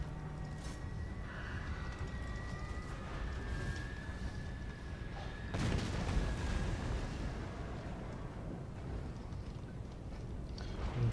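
Artillery shot striking a tower during a siege battle in Total War: Warhammer II, a heavy boom with rumbling debris rising midway over constant low battle noise and a sustained high tone, with no talking.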